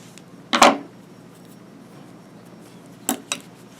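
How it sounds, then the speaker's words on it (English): Sharp scissors snipping through knitted yarn at a crocheted steek, two brief crisp cuts a few seconds apart, the second a quick double snip, near and quiet otherwise. "When you reach the end, you can cut your yarn and pull through"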